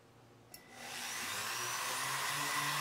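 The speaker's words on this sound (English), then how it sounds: "I'm going to clean up the actual ring using just some rubber bits" A rotary tool fitted with rubber bits spins up after a small click and holds a steady high-pitched whine, polishing a metal ring.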